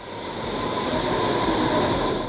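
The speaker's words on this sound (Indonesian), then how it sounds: "Sekarang saya lagi naik kereta U-Bahn untuk menuju ke suatu tempat yang bernama Rotes Rathaus" A ride aboard a Berlin U-Bahn subway train gives a loud, steady rumble and roar of wheels and motors, with a constant whine over it, continuous and close without talk.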